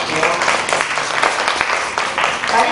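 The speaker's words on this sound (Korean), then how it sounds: "박수 한번 부탁드릴게요" An audience claps steadily for a poet at a literary concert, a dense wash of applause that stays fairly even and close throughout.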